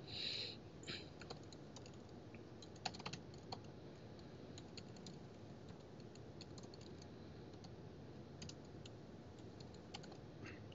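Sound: typing on a computer keyboard

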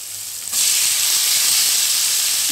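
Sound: onions, ginger and garlic sautéing in a pan

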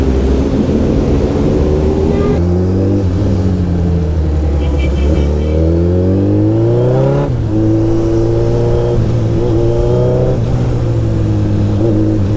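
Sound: heavy traffic jam in Delhi

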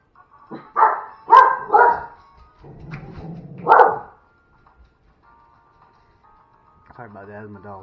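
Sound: dogs barking

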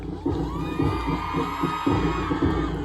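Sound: crowd clapping and cheering at boxing tournament opening

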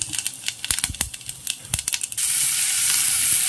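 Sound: cinnamon, cloves and spices sizzling in hot oil

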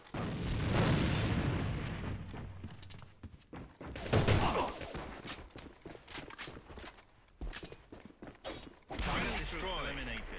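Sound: grenade explosion and gunfire in a video game (Alliance of Valiant Arms)

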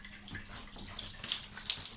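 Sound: hot water running from newly installed boiler tap

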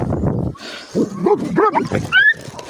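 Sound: dogs growling and barking

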